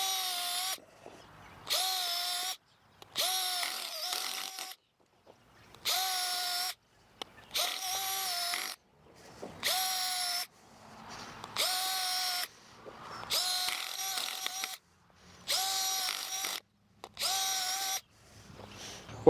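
A power tool bores a dozen planting holes in garden soil for gladiolus bulbs, running in about a dozen sharp, evenly spaced bursts with brief pauses between them, loud and close with no talking.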